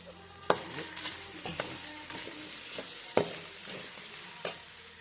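Byadgi and Guntur dried red chillies fry in hot oil in a pan, crackling and sizzling steadily with sharp pops and occasional scraping stirs, close and moderately loud with no voices.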